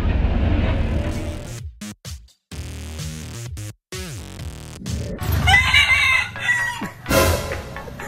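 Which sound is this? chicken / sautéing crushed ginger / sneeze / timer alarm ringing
chicken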